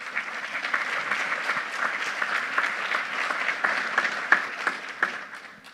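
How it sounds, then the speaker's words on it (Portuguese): An audience at a sports dispute-resolution forum claps steadily in a dense, even patter of applause that holds throughout, with a few louder individual claps near the end and no talk. "Acho que merece uma salva de palmas."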